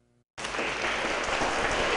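Loud, dense applause from a school class starts abruptly after a brief quiet moment and continues steadily, a crowd clapping together without pause.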